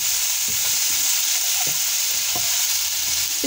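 Onions fry in a pan for tinde kebabs, a close, steady sizzle broken by light clicks of stirring.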